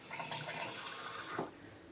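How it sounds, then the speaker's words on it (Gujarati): A small amount of water poured into freshly ground coconut to make a paste, a soft, steady watery trickle that stays faint and continuous for about two seconds with no talking. "હવે છે ને થોડું પાણી નાખીને"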